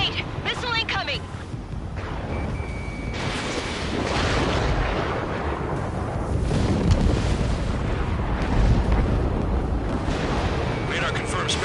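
Missile explosions in the Ace Combat 7 video game, rumbling booms and a continuous roar under jet noise, with radio-style voices talking over it.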